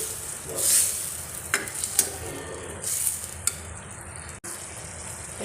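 Ingredients for egg kothu chapati frying in a pan, a soft steady sizzle with occasional scraping and clinks of stirring, close but fairly quiet.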